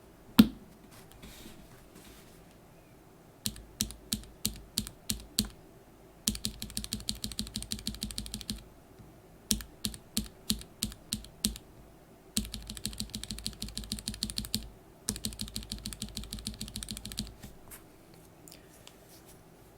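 Typing on TTC Gold V2 Brown mechanical keyboard switches, with sharp separate clacks alternating with quick rattling bursts of keystrokes and short pauses between them, close and clear.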